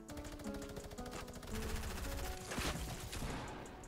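Rapid automatic gunfire from the video game Fortnite rattles in close bursts during tournament play, dense and continuous for a few seconds.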